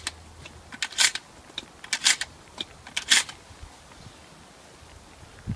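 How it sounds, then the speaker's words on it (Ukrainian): A firearm is loaded for practical shooting training with a series of sharp metallic clicks and clacks, irregular handling of magazine and action up close, with a few louder bursts of rattling, no talking. "Заряджаємо зброю."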